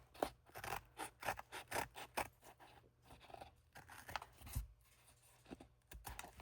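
Quiet snipping and rasping of We Are Memory Keepers craft scissors cutting material, a quick irregular series of close, soft cuts and rustles.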